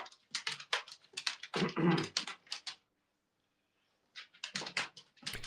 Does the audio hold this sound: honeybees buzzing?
no